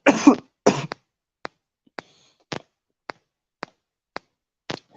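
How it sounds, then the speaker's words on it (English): A person still recovering from an illness coughs and clears their throat, two heavy close coughs followed by a string of short, sharp single hacks spaced about every half second, with no talking. "Still got the cough,"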